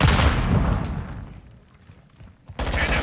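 A thrown grenade in a Call of Duty video game explodes with a loud burst that fades into a rumbling tail, then a second sharp blast and heavy gunfire break in near the end.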